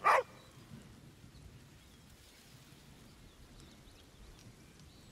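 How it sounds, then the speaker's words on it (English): A dog in the video game Baldur's Gate 3 gives a single short, loud bark at the start, then only a faint, steady ambient hiss follows. "Oh! And a dog! Let's go say hi."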